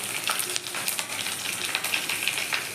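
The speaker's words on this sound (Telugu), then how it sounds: "యాడ్ చేసి అవి కూడా కొంచెం వేయించుకోవాలి." Ginger and chillies fry in a pan with a close, continuous bright sizzle and light crackle, steady and loud, with no talk.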